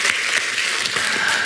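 Audience applause at a church lecture, a steady wash of clapping from many hands that fills the whole moment without a break and with no voices over it.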